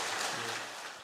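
A church congregation claps in welcome during a Sunday afternoon praise service, a soft, distant wash of applause that fades gradually over about a second.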